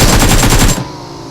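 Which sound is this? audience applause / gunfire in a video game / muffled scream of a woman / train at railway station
gunfire in a video game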